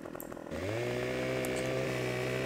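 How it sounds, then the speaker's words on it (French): A chainsaw in Farming Simulator 15 revs up after a brief pause and then holds a loud, steady buzzing drone, slightly synthetic in tone. "On va se mettre un coup de tronçonneuse."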